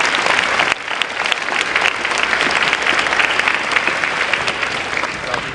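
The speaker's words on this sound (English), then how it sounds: "Let's also give Dr. Trusty a big round of applause to thank him for all his work." A school convocation audience breaks into a big round of applause for a faculty member, a loud, steady roar of many hands clapping that holds for several seconds with no voices on top.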